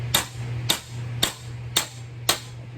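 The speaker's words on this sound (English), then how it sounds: "I'll probably get a hammer with a little smaller face on it" A small hammer taps dents out of a vintage International Harvester metal tool box, giving six evenly spaced, crisp metallic knocks about half a second apart over a faint low hum.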